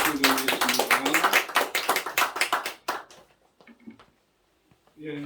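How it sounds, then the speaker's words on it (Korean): A small church congregation gives a round of applause during a morning service, close rhythmic clapping from a modest group that fades out after about three seconds into near silence, with a brief voice at the end. "하나님께 영광 박수 드리겠습니다"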